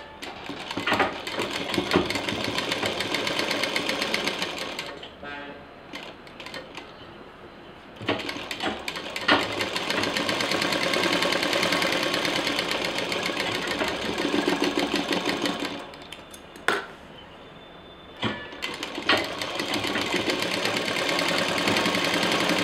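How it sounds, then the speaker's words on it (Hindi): A sewing machine stitches fabric for a homemade hanging organiser, running in long rapid mechanical bursts separated by short pauses, close and loud. "अब इसको हम सिल देंगे।"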